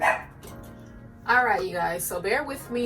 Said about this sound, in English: please excuse my dog barking in the background